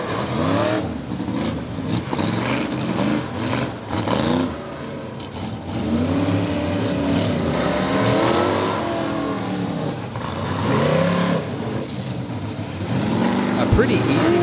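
Rough trucks race side by side on the track at Mansfield Motor Speedway, engines roaring loud and continuous with rising and falling revs as they accelerate, while an announcer talks over the noise throughout.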